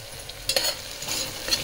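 Tomatoes and potatoes tossed into a spiced tempering with fried onion for khandeshi masala khichadi, a short soft sizzle with a few stirring scrapes, fairly quiet and with no voices.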